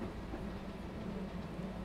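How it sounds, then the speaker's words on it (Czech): A Tatra T6A5 tram in the SIMT MHD simulator runs on Prague's DPP line 1. A faint, steady low rumble of the tram rolling along the rails with soft rattling, continuous and quiet. "To jedeme v tramvaji. Ale ten zvuk, ten je úžasný."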